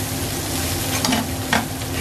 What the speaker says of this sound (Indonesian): Dan dagingnya digoreng terus sampai kecoklatan.